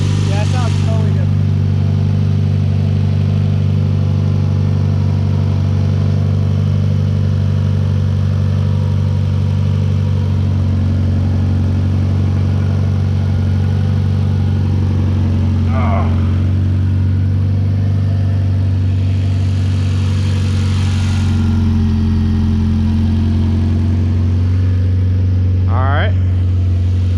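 A tuned 600hp Mitsubishi Evo X engine idles with a steady, deep, close rumble that holds throughout, with occasional brief voices and faint chirps over it.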